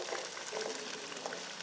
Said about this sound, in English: So I'm going to go in with the onions.